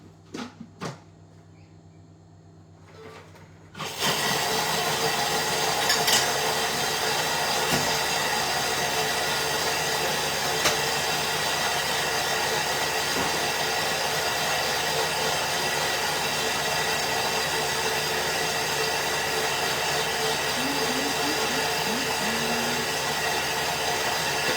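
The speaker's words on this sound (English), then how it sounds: "I'm going to blend all that." A blender starts abruptly after a few quiet seconds and runs as a steady, loud, unbroken whir while blending cake batter for a lemon torta caprese.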